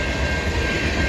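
Freight train M397 rolls past at Egerton St in London, Ontario in late February, with a Norfolk Southern 1800 locomotive trailing. It makes a close, steady, loud rumble of wheels and cars, with no one speaking.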